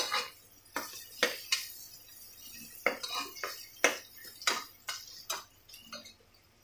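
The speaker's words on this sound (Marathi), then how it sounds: "टोमॅटो टाकून घेऊया, मसाले सगळे मिक्स करूयात मस्त" Tomatoes and spices stirred together in a pressure cooker for veg pulao, with a series of sharp, irregular clinks and scrapes of a spoon against the metal pot, close and fairly quiet.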